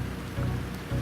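Rain patters steadily on the fiberglass-covered deck of the liveaboard sailboat SV Aether, a close, continuous hiss with slight swells in loudness and no talking.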